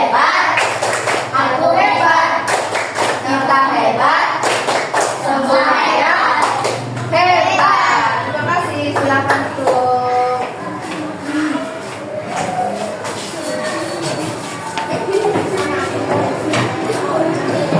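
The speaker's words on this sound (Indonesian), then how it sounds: "Beri tepuk hebat untuk teman-teman yang ada di depan." Bursts of rhythmic group clapping for colleagues at the front of a school coaching session mix with children's and adults' voices, the claps coming in short patterned rounds under ongoing talk.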